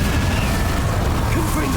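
A fire spell cast in the video game Hogwarts Legacy roars as a dense, continuous low rumble of burning flame, loud and close, with a voice speaking faintly underneath.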